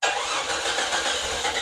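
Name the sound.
motorcycle engine starting after gas tank install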